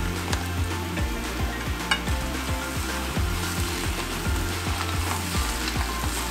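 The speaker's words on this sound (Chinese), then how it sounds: "接下来把鸡肉倒进锅中。" Chicken pieces sizzling and frying in a hot pan, a loud, steady crackle with repeated stirring scrapes, close and continuous without talk.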